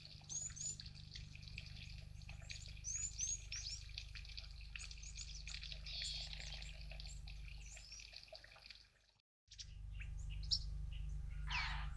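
Wild birds chirp and call in quick overlapping bursts beside a water source in the African bush, including blue waxbills and a crested barbet, over a steady low background rush; the sound briefly cuts out near the end before resuming.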